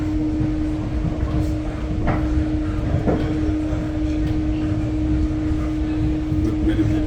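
Train standing at a station on the upgraded Johannesburg to Soweto railway, a continuous rumbling rail hum with a steady tonal whine and a couple of faint clanks, with people talking nearby.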